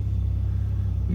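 A running car engine, fresh from a test drive after welding work on an exhaust leak, idles with a loud, steady low rumble and a faint pulsing unevenness, no voices.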